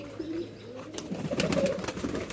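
Several pigeons coo in low, throaty bursts close by, overlapping into a busy murmur with some wing flutters, while people are being fed grain by hand nearby.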